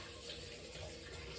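Water runs steadily from a kitchen tap while hands are washed, a faint, even hiss with no break in the flow.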